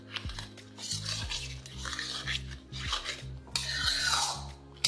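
Metal utensil scraping and clinking against a pan as egg is gently stirred into chicken for a chicken chopper, with soft repeated strokes close by and a low steady hum underneath.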